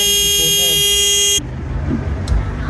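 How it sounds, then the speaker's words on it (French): Street traffic with car horns: a loud sustained honk blares for over a second, then cuts off into lower road noise and some voices nearby. "J'ai pas voulu que ces klaxons entrent dans la vidéo."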